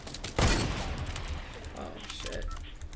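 Gunfire in the Fortnite Battle Royale video game, a loud burst of shots near the start that fades into lighter game noise, with players talking over it.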